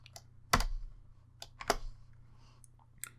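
Keys on a computer keyboard are struck close by, with a few distinct clacks and lighter taps spaced irregularly in a quiet room.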